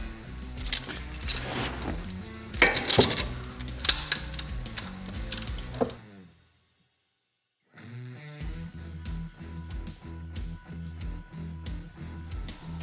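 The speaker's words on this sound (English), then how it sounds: "It grips into that oil filter and spins it right off" Claw-style oil filter wrench spinning a filter off a 2003 Honda Accord V6, a dense clatter of ratcheting mechanical clicks and grinding, a pause of silence, then more steady rattling metal turning, close and fairly loud.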